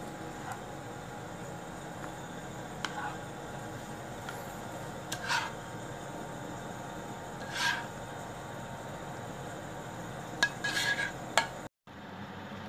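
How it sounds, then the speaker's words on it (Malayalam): Custard for a caramel biscuit pudding stirred continuously in a pan, a quiet low hiss broken by occasional soft scrapes and light utensil taps, close by with no speaking. "കൈ എടുക്കാതെ നന്നായിട്ട് ഒന്ന് ഇളക്കി കൊടുക്കുക ഇല്ലേ പെട്ടെന്ന് തന്നെ കട്ട പിടിക്കും"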